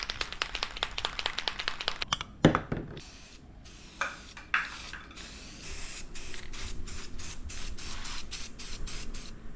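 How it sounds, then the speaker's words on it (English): Gloss red Behr spray paint hisses from an aerosol can in a series of short rapid bursts, then longer sustained sprays with brief pauses, close and fairly loud. "I've never used Behr spray paint before, never even seen it."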